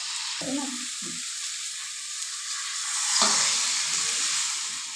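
Potatoes and eggplant fry in hot oil for a Bengali fish curry, a loud, constant sizzle up close that swells midway as more goes in, with a few low stirring knocks early on.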